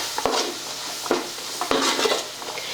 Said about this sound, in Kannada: ಈಗ ಇದೆಲ್ಲ ಚಲೋ ಹೊತ್ತಿಗೆ ಮಿಕ್ಸ್ ಮಾಡ್ಕೋತೀನಿ ನೋಡಿ